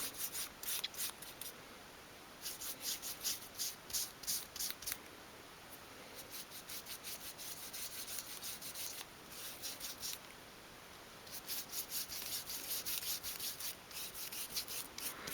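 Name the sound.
rubbing kitchen towel over a miniature wooden coffee table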